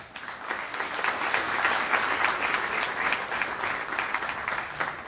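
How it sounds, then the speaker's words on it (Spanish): A crowd at an evening book presentation applauds to welcome Dr. Alfredo Boxia, with a dense, even wash of clapping that swells after the start and holds steady throughout. "Fuertes los aplausos para recibir al doctor Alfredo Boxia"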